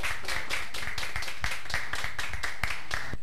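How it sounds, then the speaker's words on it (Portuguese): Studio audience on a Brazilian TV variety show applauds steadily, a dense wash of hand claps sustained throughout, loud and close with no talk over it. "Palmas pra ela,"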